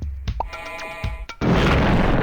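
An explosion power-up going off in the Flash game Puncho Puncho: short game blips and tones, then a sudden loud noisy burst that holds steady to the end.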